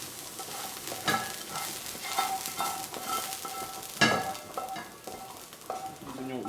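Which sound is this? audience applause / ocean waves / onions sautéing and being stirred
onions sautéing and being stirred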